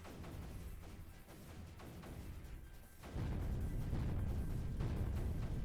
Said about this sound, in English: We're getting some nice explosions.